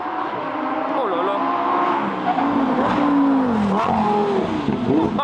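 A Lamborghini Huracán Tecnica's V10 engine revs hard, its pitch climbing and falling in loud, close sweeps with a brief tire-squeal edge, while people speak over it.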